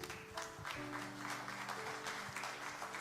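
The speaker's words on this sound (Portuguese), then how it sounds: "Você pode aplaudir a Jesus?" A church congregation applauds during a service, clapping spread across the room at moderate volume, with a sustained tone and soft voices running underneath.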